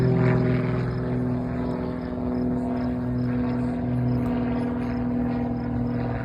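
A WWII Luftwaffe advanced trainer aircraft runs its engine at an airport wartime event, making a steady, droning propeller hum with strong low tones that swell slightly and hold throughout.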